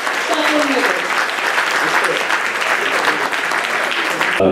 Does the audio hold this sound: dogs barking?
no